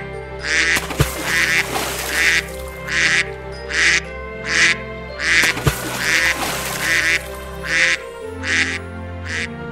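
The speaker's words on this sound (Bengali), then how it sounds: "তখন হাঁস চিৎকার দিতে থাকে।" Cartoon ducks quack and scream in a repeated burst of loud, close squawks, roughly a dozen harsh calls in an uneven rhythm over a musical background.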